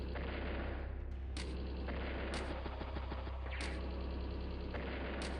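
In the Advance Wars: Days of Ruin strategy game, an anti-air unit fires on a battle copter, producing loud repeated gunfire bursts and booming shots over a steady game music bed.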